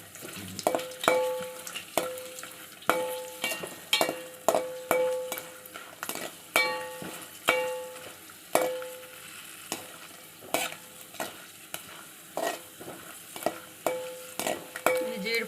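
Beetroot halwa frying in a pan gets stirred by hand, with a soft sizzle under rhythmic scraping and clinking strokes of the utensil against the pan repeating about once a second, close and fairly quiet.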